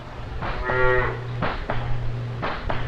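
Dairy cows on a farm give two long, deep moos one after the other, close and loud, with no one talking.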